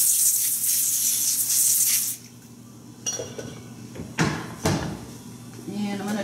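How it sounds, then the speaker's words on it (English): A steady hissing spray of cooking spray onto a cookie sheet lasts about two seconds, then stops, followed by a few clattering knocks of metal pans. "spray. I'm going to use spray."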